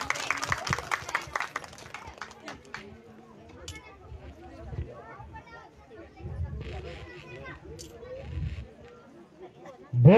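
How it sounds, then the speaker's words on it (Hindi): Villagers applaud to welcome a speaker at a Ramlila performance, with a burst of dense clapping at the start that thins into scattered claps. Crowd chatter follows, and a voice speaks over the hubbub. "सभी लोग तालियों की गड़गड़ाहट के साथ"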